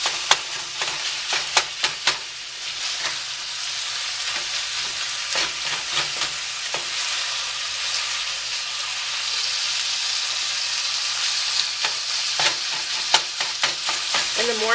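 Ground beef browning in a pan, a continuous loud sizzle broken by repeated clattering stirs and scrapes of a utensil, with clusters of stirring near the start and end and no talking.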